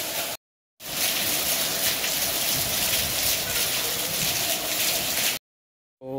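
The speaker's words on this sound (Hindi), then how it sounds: "देखिए तो काफ़ी ज़्यादा बारिश है।" Heavy rain pours in a dense, steady wash during a delivery stop, loud and close for several seconds, with brief gaps of silence at the start and end.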